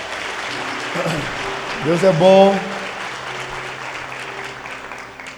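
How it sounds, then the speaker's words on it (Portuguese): Church congregation applauding during a worship service, a broad wash of clapping throughout, with someone speaking and voices calling out briefly over it in the middle. "Você pode aplaudir Jesus por isso?"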